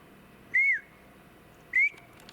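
A person whistles two short rising-then-falling notes outdoors in the woods, clear and fairly near, separated by about a second of quiet background.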